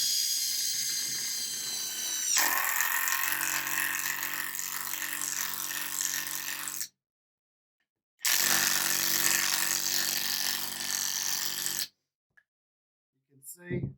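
A Klein BAT20-CW brushless compact 1/2-inch drive impact wrench drives fasteners into wood with no pre-drilled holes. Two loud bursts of rapid hammering ratchet, each several seconds long, are split by a short silence.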